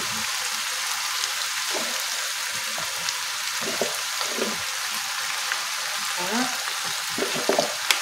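Sliced potato batons sizzle and crackle in a frying pan with mushrooms, a steady close hiss with scattered pops and stirring scrapes, no talking.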